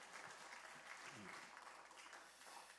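Congregation applauding during a Korean church worship service, a steady wash of clapping hands filling the room for about three seconds, with a voice faintly underneath.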